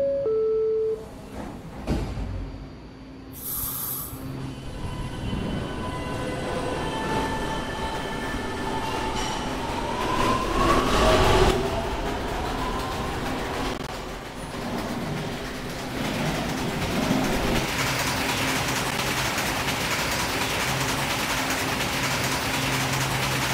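A New York City subway D train bound for 26th Street and St. Mark's Avenue runs steadily near Herald Square, a continuous loud rumble of wheels and car noise with brief squeals and clatter, and no voices.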